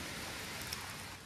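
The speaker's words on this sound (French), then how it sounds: "Parce qu'il pleut, là, ça fait beaucoup de bruit." Heavy rain falls as a steady, dense hiss with no distinct drops standing out, soft and even throughout the brief moment.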